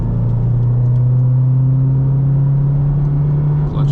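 Subaru WRX with a manual gearbox pulling away under throttle, a steady, loud mid-range engine drone that holds level and continuous throughout with no voices.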